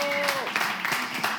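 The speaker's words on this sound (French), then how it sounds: "Est-ce qu'on peut applaudir pour nos tout jeunes enfants" An audience at a Christmas Eve gathering applauds for very young children, a dense patter of clapping while a voice carries over the start.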